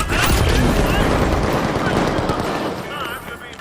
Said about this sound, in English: Using fire grenade.